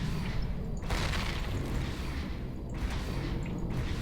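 Repeated booming explosions from the space game Empyrion Galactic Survival, dull thuds and bursts of blast noise arriving in uneven succession over a constant low rumble, fairly loud with no talk.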